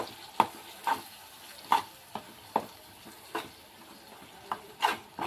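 Spicy onion mixture being stirred as it fries in a pan, a series of about ten quick scraping strokes at an uneven rhythm over a faint background sizzle, close and fairly soft.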